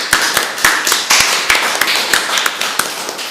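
A small group claps for the two finalists at the World Othello Championship 2023 finals. The claps are loud, close and individually distinct, giving an uneven rhythm of sharp hand slaps rather than a full roar.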